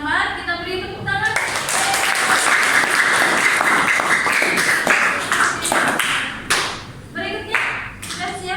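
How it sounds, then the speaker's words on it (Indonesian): A classroom applauds during an academic supervision coaching session at a high school in Bekasi, with a burst of clapping rising after a brief voice and fading into scattered claps and talk near the end. "Kalau tidak ada tambahan, kita beri tepuk tangan."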